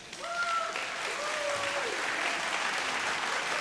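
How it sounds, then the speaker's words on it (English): A vocal show audience gives sponsors a round of applause, a sustained, fairly faint bed of crowd clapping with a few brief tonal sounds over it near the start. "Round of applause, please, for Indonesian Beauty and Bargain Box."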